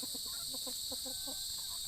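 A pet rooster under treatment for an eye ailment lets out a steady run of close, rhythmic clucks over a constant high hiss, with no talking.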